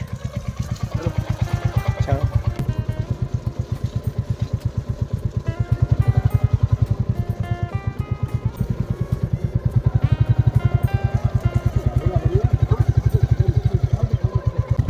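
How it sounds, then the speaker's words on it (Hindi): A motorcycle engine thumps in a fast, steady rhythm close by on a muddy road in a Himalayan village, rising twice as it is revved while being ridden out. "हिमदा निकाल रहे बाइक।"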